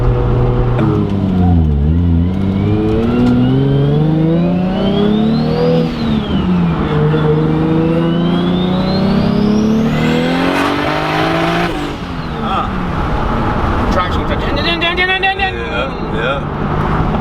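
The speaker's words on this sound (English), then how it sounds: "for those of you guys that heard it kind of breaking up a little bit towards the top, me and Ryan both run AM Infinity ECU" A car engine revving hard, breaking up near the top of its rev range as traction control cuts in; loud rising and falling engine tones with repeated pulls and some tire noise, with people talking over it throughout.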